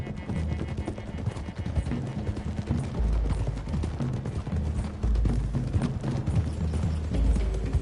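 Several horses gallop together in Red Dead Redemption 2, a steady, dense drumming of hooves on a dirt road that stays loud and close throughout.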